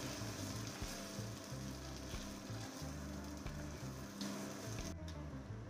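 Ground spice masala is stirred into amla pickle in a hot pan, giving a faint steady sizzle with soft scraping stirs and no talking.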